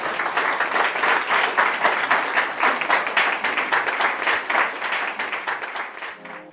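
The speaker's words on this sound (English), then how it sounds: "Ladies and gentlemen, please give them a round of applause." Loud, close applause from a packed audience at a luxury interior design panel in Greenwich, Connecticut, a thick rhythmic wash of many hands that stays strong for several seconds and then tapers off.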